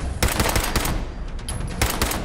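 Pistol shots ring out in Fallout 4, a handful of sharp cracks in two quick bursts separated by a short gap, loud and close with no talk.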